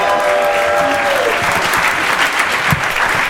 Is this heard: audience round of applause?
yes